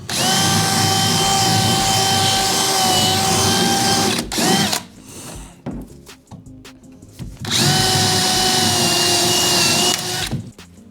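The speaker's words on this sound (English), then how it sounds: "you can just drill right through them" A loud power drill drills out rivets on an aluminum jon boat hull, whining steadily, stopping briefly with a few clanks and handling noises, then revving up again at full speed.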